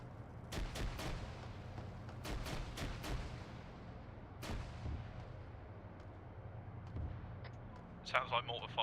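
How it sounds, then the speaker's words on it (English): Mortar and artillery fire in the Arma 3 military shooter game, several sharp booming impacts spaced irregularly across the clip, some loud and close, later ones fainter, with voices talking over a radio. "Sounds like mortar fire."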